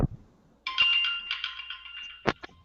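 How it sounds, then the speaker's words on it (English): A mobile phone ringtone goes off in a pub during a quiz, a sustained bright electronic melody with steady warbling tones lasting about two seconds, fairly loud and close, ending in a couple of sharper clicks. "Oh, sorry, that was my phone."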